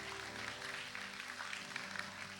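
Applause from a church congregation during a sermon, a dense steady clatter of many hands clapping at once, fairly loud and continuous for a couple of seconds, with a low musical hum underneath.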